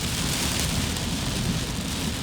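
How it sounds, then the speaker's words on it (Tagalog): Heavy rain falls on a Manila street, a loud dense roar of downpour that carries on unbroken with no voices. "Lakas pa rin ang ulan guys."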